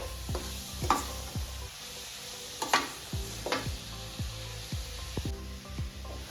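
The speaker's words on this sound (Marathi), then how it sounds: "साखर टाकल्यावर बघू शकता तुम्ही ते कसं झालंय सारण पूर्ण मऊ व्हायला लागले ते सारखं असं परतत राहायचं" A spatula scrapes and stirs sweet coconut filling with sugar in a pan for coconut vadi, with soft sizzling and steady scraping strokes under sustained background music tones.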